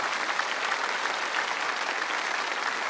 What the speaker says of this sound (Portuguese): Vamos dar uma salva de palmas a essa mulher?